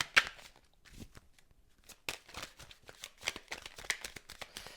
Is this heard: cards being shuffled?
yes